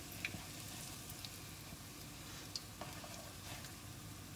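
Sweet potato and zucchini fritters frying in a pan, a faint, steady sizzle with a few scattered crackles and pops, no voices.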